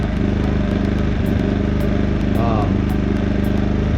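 A Wen 56203i 2000-watt inverter generator drones loud and steady up close with its fuel valve shut, a constant engine hum running on until the carburetor empties.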